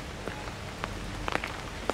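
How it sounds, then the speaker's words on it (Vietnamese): Light drizzle falls in a cemetery, a soft steady hiss of rain with scattered faint drops tapping nearby surfaces. "trời đang mưa râm râm"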